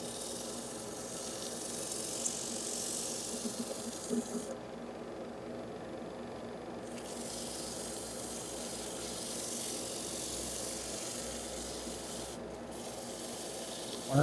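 Sandpaper of 120 grit rubs against a small turned maple bowl in a steady, raspy hiss that runs continuously and fairly softly, pausing briefly midway before resuming.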